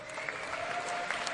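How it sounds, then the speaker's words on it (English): Enthusiastic crowd applauding at a live show, a steady wash of clapping held at even strength from start to finish, moderately distant and without a break. "Oh, man, that's a really enthusiastic crowd."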